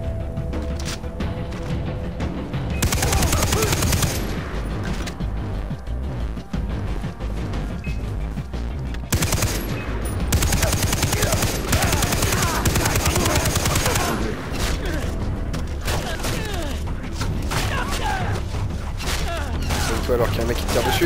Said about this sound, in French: il y a un mec qui te tire dessus